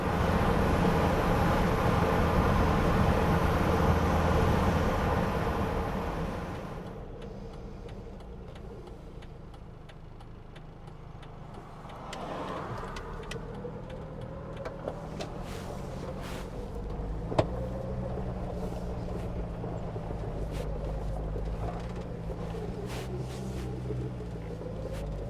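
A Jeep 2.5L four-cylinder with a three-speed automatic drives along, first with loud road and engine roar, then quieter as the engine revs rise and fall through gear changes, with faint clicks and rattles inside the cab and no talking.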